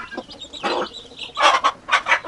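Close clucking from a domestic mother hen sheltering her chicks in an enclosure, with a few rising peeps from chicks in short bursts, no speech.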